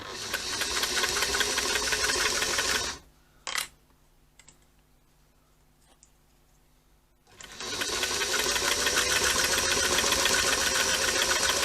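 A sewing machine runs steady stitches around a fabric scissor keeper about 3/8 inch from the edge, with a loud continuous whir that stops briefly midway, leaving a quiet gap with a short tap, then resumes just as loudly.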